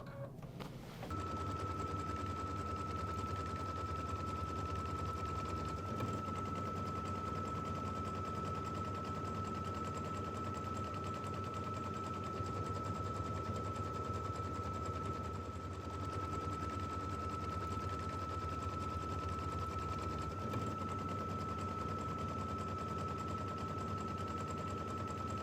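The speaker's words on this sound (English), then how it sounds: "we're going to go ahead and stitch our tack down line" An embroidery machine stitching a quilt block tack-down line, a continuous fast rattling buzz of the needle with a steady tone running the whole time, loud and close with no speech.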